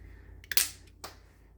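An authentic Italian stiletto switchblade from Campolin of Maniago, Italy, with a leaf spring, snaps open in a sharp metallic click, followed by a second fainter click about half a second later, close up in a quiet room.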